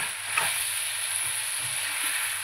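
Ginger and garlic frying in a pan for street-style chilli chicken, a soft continuous sizzle and hiss with faint stirring, quiet and alone.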